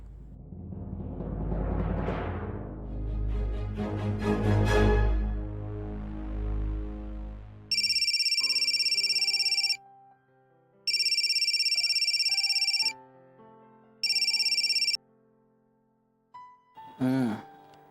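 A rising, swelling musical tone gives way to a phone ringtone, a shrill electronic ring repeating in three bursts with pauses between them, loud and close.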